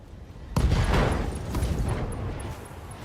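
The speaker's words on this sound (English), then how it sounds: "Ammo explosion there" An ammunition explosion in the BattleTech mech game erupts as a sudden loud boom, followed by a sustained rumbling roar of blasts and crackling gunfire that slowly fades.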